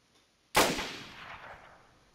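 A single sharp rifle shot in the survival video game DayZ, loud and close, fired at long range with a long decaying echo trailing off over about a second and a half.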